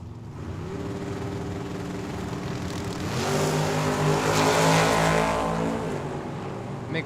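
Two drag cars, a newly painted S10 pickup truck and a Corvette, race side by side at Tucson Dragway, engines droning steadily and then swelling louder as they accelerate down the strip.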